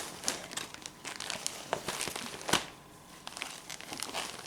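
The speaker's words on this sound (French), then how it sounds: "C'est difficile de filmer et d'ouvrir un paquet à la fois." Close-up crinkling and tearing of packaging as a parcel is pulled open by hand, with irregular rustles and one sharper rip in the middle.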